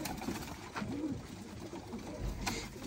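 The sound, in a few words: pigeons cooing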